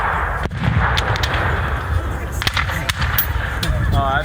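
Black-powder guns firing at a Battle of Aiken Civil War reenactment outdoors, giving a few sharp distant reports over steady crowd and wind noise, with people talking nearby.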